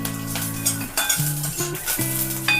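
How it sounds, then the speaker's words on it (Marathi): Garlic added to peanuts lightly roasting in a little oil for sesame chutney, with close sizzling and spoon clinks against the pan while a steady tonal hum runs underneath, no speech. "त्याच्यामध्येच हा लसूण घालते मी।"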